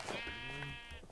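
A single sheep in the video game Minecraft lets out a short, nasal, wavering bleat, close and clear, lasting about a second.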